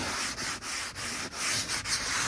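A stiff brush scrubs cleaner into a surface on a Lexus GX470, making steady, close rasping strokes with brief pauses between passes.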